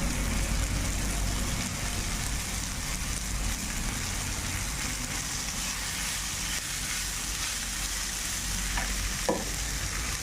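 Dill leaves stir-frying in a pan, a steady close sizzle with faint scraping and a small clink near the end.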